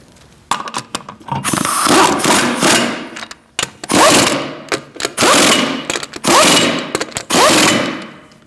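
Wheel lug nuts being tightened on a 2016-2019 Chevrolet Cruze during a rear brake job give loud, close rattling impact-tool bursts, about five of them, separated by short pauses.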